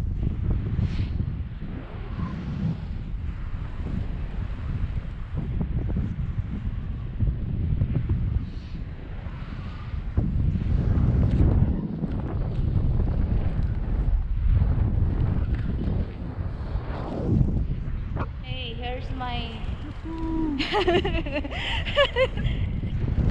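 Heavy wind buffets an outdoor microphone in cold weather, a steady low rumble throughout, with people talking and laughing faintly underneath.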